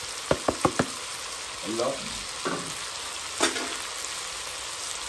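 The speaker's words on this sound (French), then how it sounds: "Vos oignons rentrent là-dedans." Onions sizzle in a pan with rabbit and bacon as they are stirred, after a few quick taps of a utensil at the start; a brief spoken word comes through.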